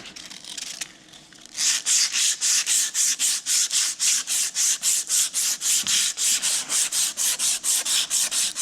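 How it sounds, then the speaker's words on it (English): Steady back-and-forth sanding of rust off metal on an antique Caterpillar RD4 transmission part, close and loud, in a fast regular rhythm after a brief quieter scrape, with no talking. "I might sand on this one a little bit, just so we don't suffer as hard"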